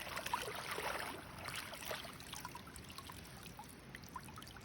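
Lake water trickling and splashing as a cyanotype print is rinsed, a faint soft continuous wash of water with small drips and no speech.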